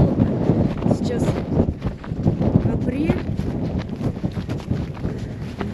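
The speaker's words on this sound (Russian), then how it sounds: "Ветер сильнейший, друзья." Very strong wind buffets the microphone outdoors on a cold April night on the steppe near Baikonur, a gusty, constant roar with rough thumps and no letup.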